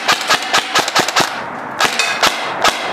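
Airsoft Helios Umbrella Corporation M4 SBR rifle firing BBs outdoors: a quick run of about seven sharp snapping shots, a short pause, then three more spaced shots, loud and close with no talk.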